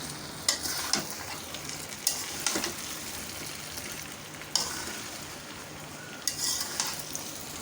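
Ginger and garlic paste frying together with mango pieces for a sweet-sour mango pickle, a steady sizzle punctuated by several sharp spatula taps and scrapes on the pan, no one speaking.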